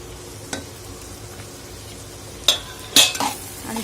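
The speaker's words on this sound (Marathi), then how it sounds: "तुरीच्या डाळीलाही परतवून घेणार आहोत" Toor dal is sautéed in a pan over a low, steady sizzle, and a few sharp metallic scrapes and clanks of a spatula against the pan ring out near the end, close-up with no voices.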